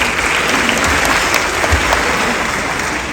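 Dense, steady applause fills the room as guests step onto the stage at a live Shaheed Day tribute to police martyrs. It stays loud and even throughout, with no talk over it.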